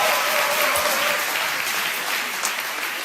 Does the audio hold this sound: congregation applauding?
yes